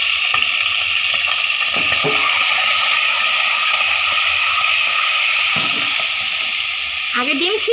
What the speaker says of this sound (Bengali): গরম হয়ে গেছে আমি ডিমগুলি দিয়ে দিচ্ছি